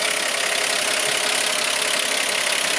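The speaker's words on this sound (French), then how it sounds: "Le moteur tourne très très bien, on l'entend ici, il en marche d'ailleurs." A 1964 Ford F100 pickup with its six-cylinder engine idles steadily and evenly close by, giving a continuous smooth hum with a faint rhythmic pulse, with no voices.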